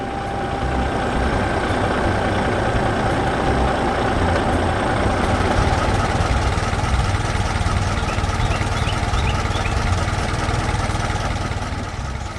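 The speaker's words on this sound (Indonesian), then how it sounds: "Traktor biru dengan tangki kuning sedang bekerja di sekitar tanaman yang tumbuh" A blue tractor with a yellow tank works around growing crops by a wooden fence, its engine droning in a steady, loud, low rumble throughout.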